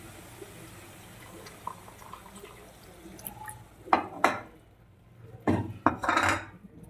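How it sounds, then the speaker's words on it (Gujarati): Warm milk, about 100–150 grams, poured into sautéed grated bottle gourd for halwa: faint clinks of utensils, then two close bursts of splashing liquid against a pan, with quiet stretches between. "હવે આપણે એની અંદર આ ગરમ કરેલું 100-150 ગ્રામ દૂધ છે એ"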